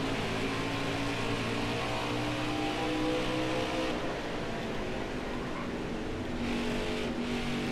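NASCAR race car engines roar in the NASCAR Heat 5 game at Richmond, a dense steady drone of several cars at speed with slight pitch shifts as they pass.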